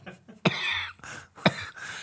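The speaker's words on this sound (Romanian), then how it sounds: "Ăsta tușește praf?" An old man coughing, two harsh, close bursts about a second apart, each trailing into a breathy rasp.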